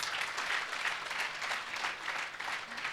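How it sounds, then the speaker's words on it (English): An audience at a university awards ceremony applauds, a steady wash of many hands clapping at moderate volume throughout. "that deserves a round of applause"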